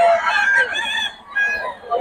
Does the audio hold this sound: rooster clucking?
yes